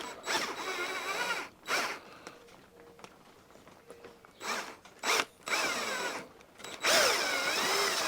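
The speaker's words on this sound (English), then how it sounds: "Put your drill right on the end. It's only plastic, right?" A power drill whines in several short bursts, pitch rising and falling as it bites into the plastic of a lawn mower recoil starter, with pauses between each run.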